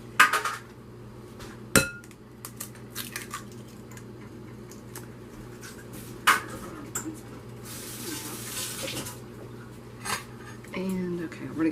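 Two eggs cracked into a bowl in a home kitchen, with sharp taps against the rim, clinks of a spoon and wet squishing as they are mixed, scattered over several seconds amid quiet room noise.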